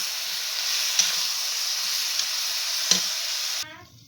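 Chili powder and turmeric are stirred into a tomato curry frying in a pan: a constant close hiss of sizzling with a few sharp scraping clicks from the stirring, then an abrupt cut near the end.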